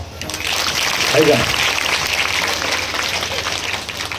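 An audience claps together at a kirtan during an Akhand Harinam Saptah at a Shiv Maruti temple. The applause forms a steady, fairly loud wash that lasts about four seconds with no pause.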